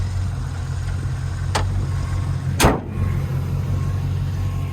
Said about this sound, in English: with this MBR, with this exhaust setup, this thing sounds really good with a V8 in it